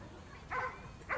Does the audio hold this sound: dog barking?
yes